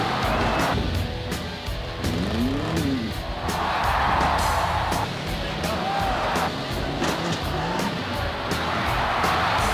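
Tough trucks racing at a mud and monster truck event, with loud, continuous engine roar and revving rising and falling against steady crowd and outdoor noise.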